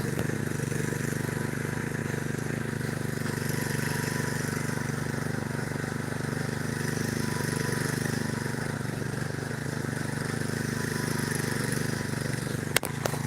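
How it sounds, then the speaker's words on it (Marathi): A tractor engine running a rotavator drones steadily with a continuous rattling mechanical hum, close by, with one sharp click near the end. "मित्रांनो बघा हे ट्रॅक्टर आहे मित्रांनो आणि हे रुटर करते"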